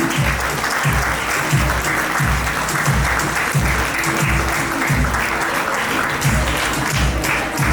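An audience at a teachers' awards ceremony applauds a mathematics teacher, with dense, steady clapping that holds at an even loudness for the whole stretch.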